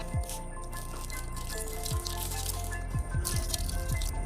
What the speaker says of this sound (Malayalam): നൈട്രജൻ ധാരാളം അടങ്ങിയ പച്ച ചാണക വെള്ളമാണ് ഇതിലേക്ക് ഒഴിച്ചു കൊടുക്കുന്നത്